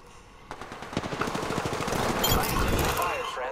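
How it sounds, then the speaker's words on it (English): Rapid automatic gunfire in a video game, a dense rattling stream of close, loud shots that builds steadily over a few seconds, with a voice talking over it. "Opening fire on the enemy."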